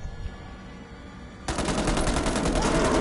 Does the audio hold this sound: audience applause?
no